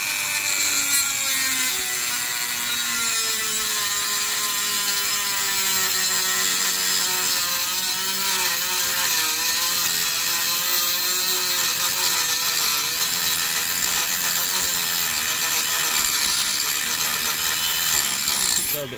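A handheld Dremel rotary tool cuts into a plastic soda bottle being made into a pressure tank, a steady high-pitched whine with grinding rub that runs loud and unbroken from start to finish.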